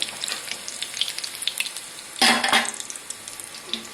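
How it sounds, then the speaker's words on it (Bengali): Green chili and garlic fry in hot oil in a pan, a close crackling sizzle with popping bursts and a louder surge of spattering midway. "লঙ্কা আর এটা রসুনটা একটু ভাজা ভাজা হোক একটু রং ধরুক"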